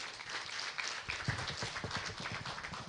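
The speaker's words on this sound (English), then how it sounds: "Can we have a bigger hand clap" An audience at a national symposium on gender-based violence shelters breaks into hand clapping, a dense, moderately distant patter of many hands that swells in the middle and holds steady.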